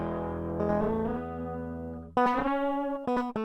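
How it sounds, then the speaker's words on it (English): Electric guitar through a Nudistort distortion plugin for a gritty alternative rock track, a sustained fuzzy chord fading slowly, then sharper distorted chords struck in quick, choppy hits, heard alone at moderate level. "you hear how it's not like a traditional distortion,"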